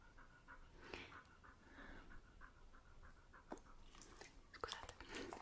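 A dog being cuddled breathes and pants close to the microphone in a quick, soft rhythm, with occasional mouth clicks and light rustling.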